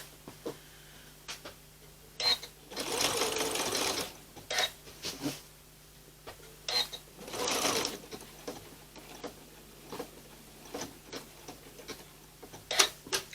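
A sewing machine stitches a fabric appliqué for a Valentine table runner in two longer whirring runs and several short bursts, broken by pauses and light mechanical ticks, close and fairly quiet.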